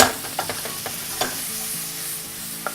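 Chunjang black bean paste stir-frying in a pan for jjajang noodles, with a spatula scraping and clicking in irregular strokes over a low steady sizzle, close by with no voices.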